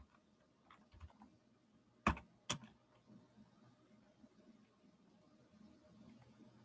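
Keys on a computer keyboard are typed while a PowerShell function is entered, giving two sharp, close clicks in quick succession among a few faint taps in a quiet room.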